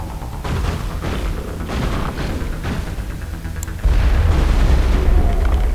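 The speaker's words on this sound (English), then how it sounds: "I think it's time to get the shotgun out." Shotgun blasts in the Mass Effect video game, several loud, booming shots spaced over a few seconds amid combat noise, ending in a heavier sustained rumble.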